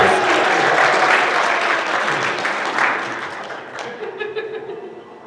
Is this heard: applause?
yes